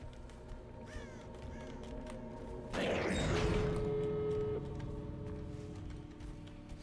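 A crow caws once in the horror game Dead by Daylight, a loud harsh call with a creaking, flapping burst rising over a low ambient game drone, followed by a steady tone.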